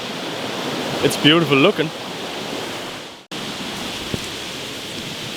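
A loud river roars as a continuous broadband rush, steady and close, while a person speaks briefly over it; the sound cuts off abruptly and resumes.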